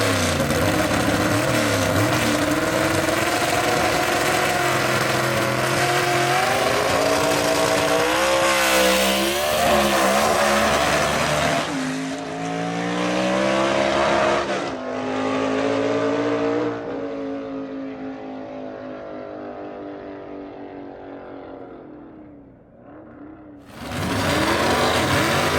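A 1931 Ford Tudor gasser race car called the Southern Flyer runs at a drag strip at Union Dragway. The engine roars loud and steady and swells through revs. It fades toward the end, then cuts back in sharply.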